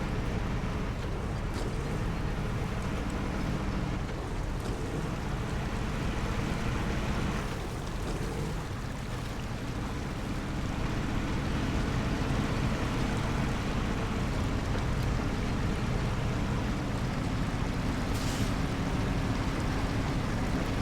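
A heavy off-road truck in Snowrunner, fitted with off-road tyres and no snorkel, ploughs through water with a steady rushing slosh and a low engine rumble, continuous and fairly loud throughout.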